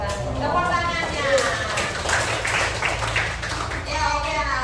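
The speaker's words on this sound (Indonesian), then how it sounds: "Tepuk tangannya." Students in a classroom clap after a classmate's presentation, a scattered, moderately loud patter of hands lasting a few seconds, with talking over and around it.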